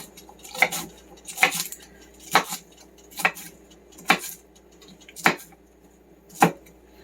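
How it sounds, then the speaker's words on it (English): A kitchen knife chops cabbage into chunks on a cutting board: seven sharp, separate cuts spaced about a second apart, close up, with quiet background between them and no speech. "I'm going to go ahead and just cut these up into chunks."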